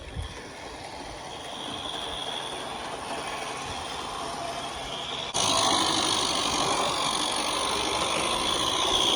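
A live steam Regner Lumber Jack model locomotive runs with a steady mechanical rumble and hiss of its pistons, growing noticeably louder about halfway through.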